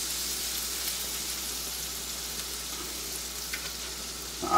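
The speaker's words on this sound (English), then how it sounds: "Squeeze this lemon into my pan." Lemon juice is squeezed into a hot frying pan of perch, producing a steady, hissing sizzle that stays even and close throughout, with a faint clatter near the end and no talking.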